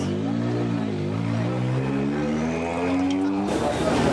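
A 1987 race car, number 18, pulls out of the pits to rejoin a 24-hour endurance race, its engine loud and close with a steadily rising, revving pitch before cutting off abruptly.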